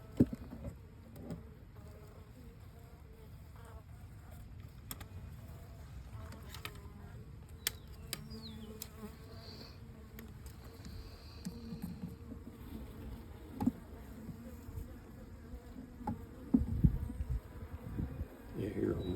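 Honeybees buzzing in a low, steady drone close by at a hive, with occasional knocks and handling noises.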